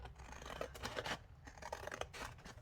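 Scissors snip through toothpaste box cardboard close by, with several quick, crisp cuts falling in short clusters over a faint low hum.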